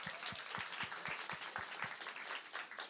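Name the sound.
applause for the teachers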